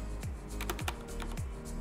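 Keystrokes on a Corsair K70 RGB TKL mechanical keyboard with Cherry MX Speed Silver switches, a close, steady run of crisp clicks and clacks with several heavier thocks spaced through the burst.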